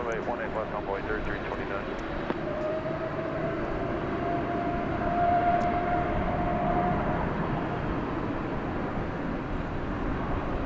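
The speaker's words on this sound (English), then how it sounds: "we follow this Turkish Dreamliner into the air" A Turkish Airlines Boeing 787 Dreamliner takes off at night at DFW, a broad distant roar with a rising whine building through the clip, heard under steady talk.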